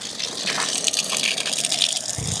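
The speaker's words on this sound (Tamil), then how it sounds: "நல்லா தண்ணி வருது. போர் தண்ணி, போர் வாட்டர்." Borewell water gushing steadily out of a pipe at a land plot in Coimbatore, a continuous loud hissing splash that holds even throughout, with no talk.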